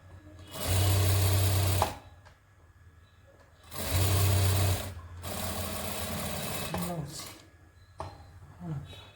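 Sewing machine stitching a lined salwar, running in three distinct loud bursts of whirring with short pauses between, close up, with someone speaking quietly between runs.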